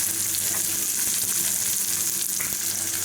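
Green chilies hit hot oil for egg roast, giving a loud, steady, close sizzle and crackle that holds throughout with a few faint clicks of the pan.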